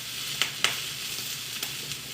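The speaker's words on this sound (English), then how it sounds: "just keep sauteing these" Food sauteing in a pan with black squid ink sauce, a quiet steady sizzle broken by a few sharp ticks of utensil contact, no talking.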